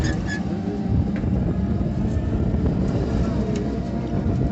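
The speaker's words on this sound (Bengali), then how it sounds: "আমাদের ভাড়া করা বাইক অটো গাড়ি নিয়ে আবার লেম্বুর চরের দিকে ছুটে যাচ্ছি" A rented motor auto-rickshaw, locally called a bike-auto, drives toward Lembur Char near Kuakata, giving a steady, loud engine rumble mixed with wind buffeting throughout.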